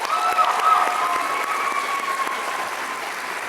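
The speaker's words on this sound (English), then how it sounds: "Let's give those young ladies another round of applause." A crowd claps loudly and steadily for young women after the talent portion of the Boyle County Distinguished Young Women 2024 program, with faint tonal cheers above the clapping.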